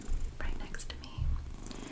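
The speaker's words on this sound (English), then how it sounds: "You can probably hear her purring right next to me" Binks the cat purring on a couch right beside a soft-spoken person, a low rumbling purr running steadily under quiet whispery speech.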